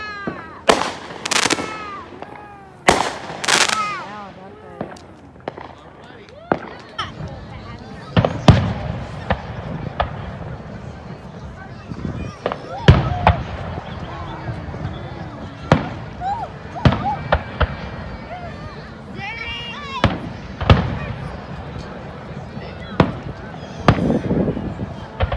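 Fireworks burst outdoors in a string of loud cracks and booms at irregular intervals, some close and sharp, others duller and farther off, with people and a baby's voice in between.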